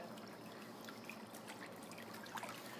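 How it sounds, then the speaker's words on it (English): Water jets running in a pedicure spa foot tub, a steady low bubbling trickle and rush of water held at an even level throughout, fairly faint with no talk. "Don't forget to turn the jets on."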